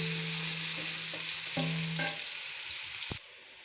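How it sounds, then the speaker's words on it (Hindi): Chopped onion sizzles steadily in hot oil, a continuous frying hiss with a few brief stirring clinks and a utensil knock near the end, as it cooks toward light brown for a chicken and capsicum curry. "तो फिर हम इसमें अपना प्याज ऐड करेंगे"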